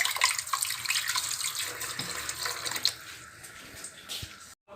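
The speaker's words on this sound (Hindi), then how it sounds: "ये देखा दोस्तों कितनी सारी मिट्टी थी जो इन आलूओं से मैंने वॉश करके निकाली है" Tap water runs steadily into a sink while muddy potatoes are washed by hand, a close, continuous splashing rush with occasional clatter and a sudden stop at the end.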